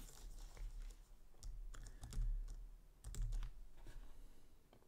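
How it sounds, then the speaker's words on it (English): Clicks and clacks of typing on a computer keyboard, coming in quick bursts and short runs, close and fairly soft, with no voices. "I really like this keyboard too"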